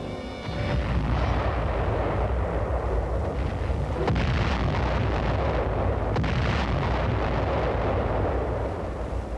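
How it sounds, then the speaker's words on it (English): Ships' guns of floating artillery fire in a 1951 Korean War harbour battle, with heavy booms over a dense, continuous roar and sharp reports near four and six seconds. "Floating artillery holds back an enemy"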